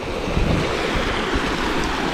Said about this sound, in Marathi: इकडे छोट्या प्रकारे भवरा तयार झालेला आहे